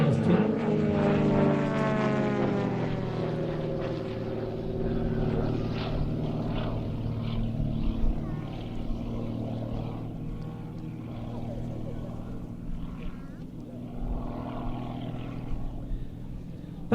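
A large radio-controlled model aircraft built by Krill, just under 3 metres long and just over 3 metres in wingspan, flies a display in the Global Stars team livery. Its engine note rises and falls in pitch as it passes, with someone talking over it.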